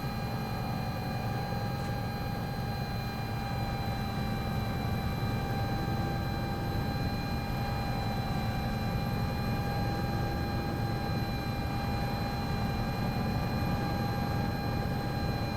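Sikorsky S-76 helicopter in the CowanSim Jurassic World Archipelago flight game, a steady, loud, continuous engine and rotor drone with sustained whining tones throughout, no voices.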